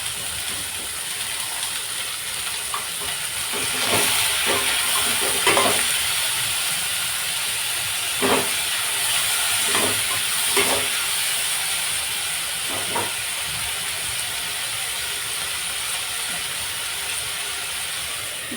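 Ginger, garlic and green chilli sauté in a pan for butter paneer, giving a steady loud hiss of frying with repeated scraping strokes of a spatula stirring at uneven intervals.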